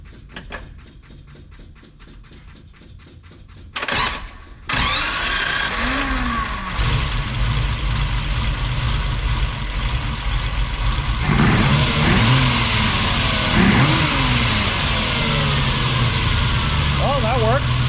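A Ferrari 330 America engine cranks with rapid clicking starter turns, catches and fires up, then settles into a loud running idle with repeated revs rising and falling, voices briefly audible nearby.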